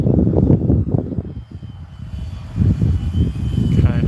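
Commander MPD RC plane makes a pass in light wind with one notch of flaps, its engine and propeller droning steadily and rising slightly as it goes by, with some wind rumble.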